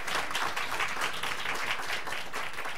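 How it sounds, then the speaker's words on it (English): Audience applause at a Michigan Black Chamber of Commerce event, a steady wash of many hands clapping together at moderate distance throughout, with no talk over it. "So please give that a round of applause."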